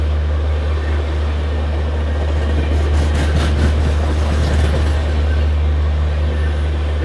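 The Ananya Express, running between Kolkata and Udaipur, rushes by at good speed with a steady loud low rumble and a brief swell of rattling clatter midway, with no voices.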